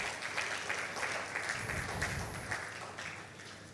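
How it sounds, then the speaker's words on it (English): Audience applause at a technology summit, a moderately distant crowd clapping steadily throughout, with a faint low rumble underneath. "Can please give her one more round of applause?"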